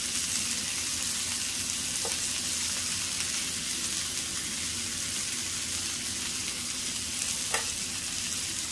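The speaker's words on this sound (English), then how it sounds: "Let that melt into the beans and mushrooms." Butter pats melting and sizzling in a pan with fresh green beans and mushrooms, a steady close frying hiss that runs throughout with a couple of faint clicks.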